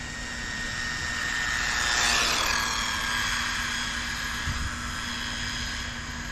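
An Arrma Limitless 120 8S RC car with bigger gearing gives a high-pitched electric motor whine that builds and swells around the middle before holding steady, heard from some distance with no talk.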